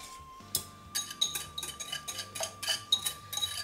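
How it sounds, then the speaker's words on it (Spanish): A utensil stirs an eggless custard mixture into hot milk in a pot, giving soft clinks and scraping strokes against the metal in an irregular rhythm, close and fairly quiet, with no talking. "lo que voy a hacer va a ser empezar a echar la mezcla aquí a la olla."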